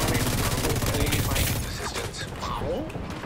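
Rapid automatic gunfire in a survival shooter video game, a loud burst of fast rattling shots for about a second and a half, followed by scattered quieter shots and game sounds with talk in the background.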